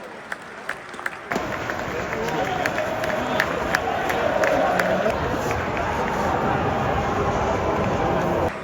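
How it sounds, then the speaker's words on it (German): A football stadium crowd bursts into loud cheering after a headed goal: a sudden roar rises out of quieter noise and holds as a dense, sustained wall of cheering and clapping close by. "Aber Hauptsache alle jubeln."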